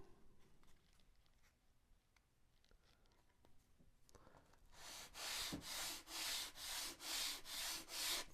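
A wooden model aircraft part for a Carl Goldberg Sukhoi SU26MX kit gets a bevel sanded into it. Eight close, even back-and-forth sanding strokes follow a few quiet handling clicks.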